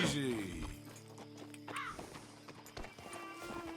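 Horse hooves clip-clopping in Red Dead Redemption 2, a quick uneven patter of hoofbeats close by, with a brief whinny and a rider's voice spoken over them.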